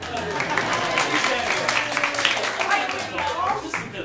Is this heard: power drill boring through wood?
no